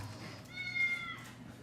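A cat meows once, a short mid-length call heard close up over faint background noise.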